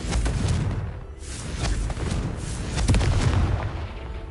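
A Confringo fire spell exploding in Hogwarts Legacy, a dense roaring blast with rumbling low booms and crackling bursts layered through the whole moment.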